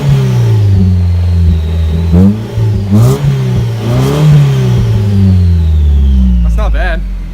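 A Mazda3 with a custom exhaust revving hard several times, loud, close blips that rise and fall in pitch between throttle stabs, with voices talking over it.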